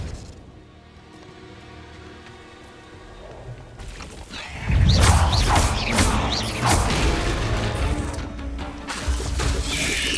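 Spell impacts in the Hogwarts Legacy game, cast inside a cave maze: a quiet mechanical stretch, then a loud burst of crackling, whooshing magical hits and crashes that keeps going to the end.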